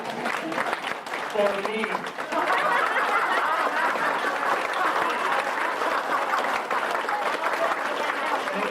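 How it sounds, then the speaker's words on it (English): A standing crowd at a 50th anniversary party breaks into a loud, sustained round of applause that swells after a brief spoken phrase and continues evenly to the end. "Let's stand up. Huge round of applause"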